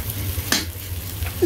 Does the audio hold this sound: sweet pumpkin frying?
yes